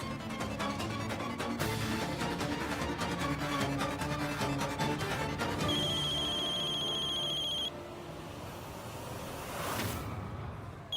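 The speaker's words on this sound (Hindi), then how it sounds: "नताशा का फोन" A phone rings with a repeating electronic ringtone over background music, then the ring pattern sharpens into a steady tone before stopping.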